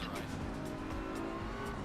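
Racing video game cars roar steadily with tire squeal mixed in, a dense continuous engine drone with brief sharper screeches, and voices faintly present underneath.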